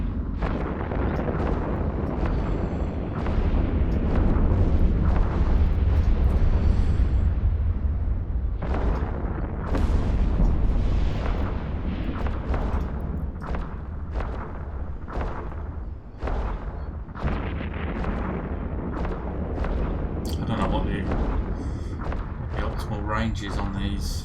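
Spaceship weapons fire and explosions in EVE Online, a dense continuous barrage of booming blasts and bursts running throughout, with a voice talking over the combat.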